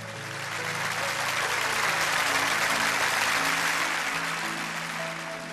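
An audience at a church quiz programme bursts into sustained applause, loud and even, swelling and fading over several seconds with no talk on top.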